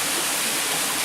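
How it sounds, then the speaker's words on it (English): Waterfall in Puerto Rico pouring as a steady, dense roar of falling water, loud and unbroken throughout with no voices. "We're at Frankie's lovely, beautiful waterfall in this unbelievably gorgeous piece of earth"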